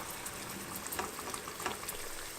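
Shallots deep-frying in oil, a steady dense crackle and bubbling sizzle that holds the same level throughout with scattered pops, no voices.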